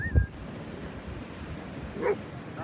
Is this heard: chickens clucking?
no